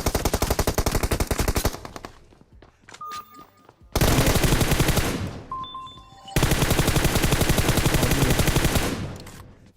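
Gunfire in PUBG Mobile on the Erangel map: loud, rapid automatic bursts in three long strings, with brief pauses between them holding faint clicks and electronic game tones.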